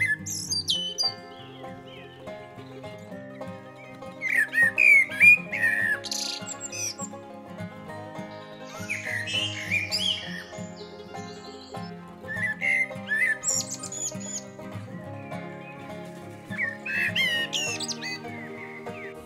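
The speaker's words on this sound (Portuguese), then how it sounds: "É uma ave de aparência simples, mas de um canto muito bonito." A common blackbird sings a rich, flowing song of fluted whistles and chirps that repeat in phrases over steady background tones, clear and fairly close, with no talking.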